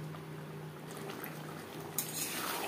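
Chilli chicken cooks in a pan with chilli sauce, a soft steady sizzle and bubbling with faint clinks of utensils, ending in a brief brighter burst of sizzle.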